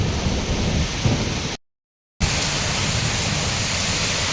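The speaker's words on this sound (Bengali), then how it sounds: "খুবই ঝড় বৃষ্টি হচ্ছে" A heavy thunderstorm with rain, dense roaring downpour and low rumbling thunder filling the air, loud and close, cut by a brief silent gap before the storm resumes just as strong.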